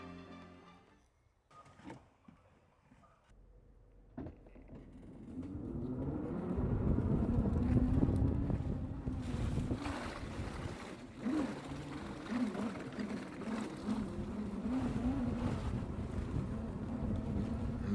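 Electric SE Tundra 4x4 ATV setting off with a low, soft motor hum and rustling wind, rising after a few seconds and staying fairly quiet throughout.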